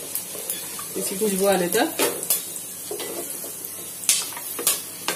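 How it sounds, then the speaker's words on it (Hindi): Cumin seeds and whole garam masala crackle and sizzle in hot oil while a spoon stirs and taps the pan, with a voice speaking over the frying at first. "अब इसमें जीरा डालेंगे और एक खड़ा गर्म मसाला डालेंगे। इसको थोड़ा सा फूटने देंगे"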